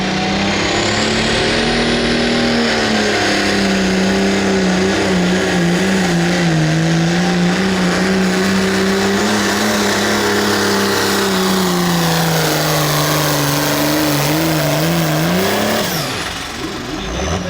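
A pulling tractor from the 85 Limited Pro class roars at full throttle in a sustained, loud, steady drone, its pitch wavering slightly and then dropping away near the end of the run.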